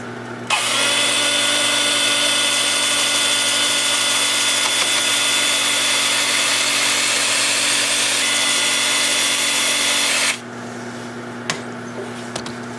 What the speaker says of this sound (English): And I'm going to use my 2-inch disc sander.